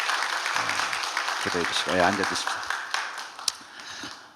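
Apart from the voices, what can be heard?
congregation applause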